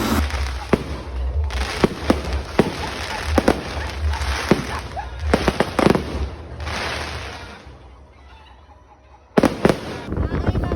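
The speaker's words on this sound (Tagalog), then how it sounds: "meron pa talaga silang pa fireworks display" Loud fireworks burst in sharp, irregular bangs with crackling on Sibuyan Island, Philippines, a brief lull near the end before another blast.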